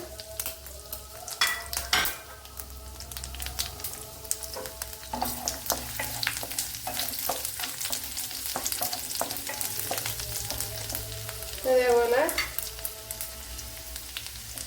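Ginger, garlic and dried red chillies sizzle and fry in a pan, a steady crackle broken by scraping stirs and clinks of a utensil against the metal, close and moderately quiet.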